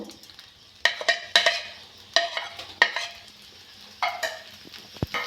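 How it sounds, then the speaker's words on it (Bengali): Semai vermicelli being fried in ghee in a karahi over a gas flame, heard as light sizzling with a series of scraping, clattering stirring strokes at irregular intervals, fairly close and with no voices. "ভালো করে ভেজে নেব"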